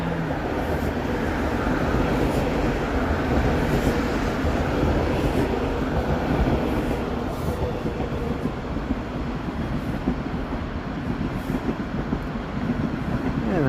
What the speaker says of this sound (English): There's a Line 1 train.